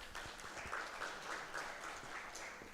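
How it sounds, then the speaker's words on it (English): An audience at a patient safety and infection control conference session claps steadily throughout, a dense, even round of applause heard from a slight distance. "Another round of applause."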